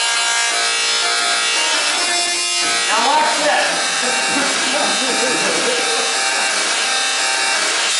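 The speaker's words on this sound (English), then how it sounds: "The sound you're hearing is actually coming from an electrical discharge off the top of that." Electrical discharge arcing off the top of a radio frequency coil in a lab, a steady crackling buzz running throughout, with a person speaking briefly near the start over it.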